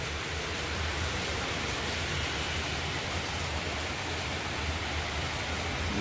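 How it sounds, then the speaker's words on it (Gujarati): Steady rain falls in a continuous, even wash of dense patter, heavy and near, with no voices or breaks. "મસ્ત વરસાદ ચાલુ થઈ ગયો છે."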